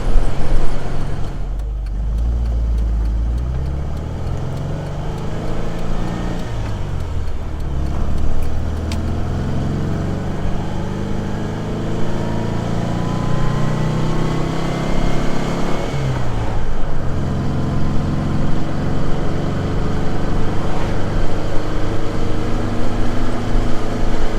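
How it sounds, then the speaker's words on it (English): A Porsche 356 engine runs steadily at close range, a deep continuous rumble that swells slightly as it revs, with wind noise and no talking. "Boy, that engine is running great back there."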